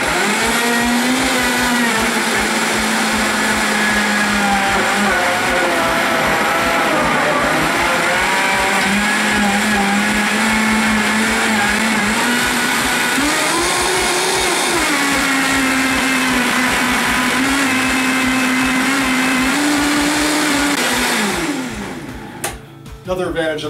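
A Vitamix blender blends a green smoothie while a tamper presses the ingredients into the blade: a loud, steady motor whir whose pitch rises and dips with speed changes for about twenty seconds, then cuts off.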